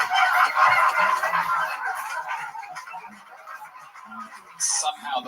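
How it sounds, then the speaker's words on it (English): Jungle bird sound effect button: loud honking, goose-like bird calls fill the opening seconds, then fade under background noise before a brief sharp squawk near the end; voices talk faintly beneath. "That sound is called Jungle Bird before you think I'm dropping a slur."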